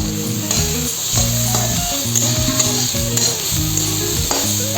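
Katla fish heads fry in a pan with a close, steady sizzle, while repeated stirring strokes scrape through the hiss; no one speaks.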